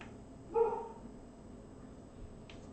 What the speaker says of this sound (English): She's barking. I don't know what she's barking at,